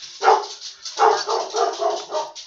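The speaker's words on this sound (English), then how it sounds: "Hey, it's my dog!" A dog barks and yips close by in a rapid series of short, high-pitched bursts, with one louder bark followed by a quick run of smaller ones and no talking.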